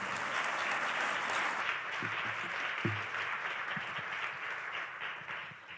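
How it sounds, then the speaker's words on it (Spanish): Sustained applause from a large crowd, steady and dense throughout, with a few faint voices underneath before it begins to taper at the end. "La recibimos con un muy fuerte aplauso también."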